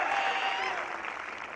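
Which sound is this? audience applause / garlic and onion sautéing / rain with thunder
audience applause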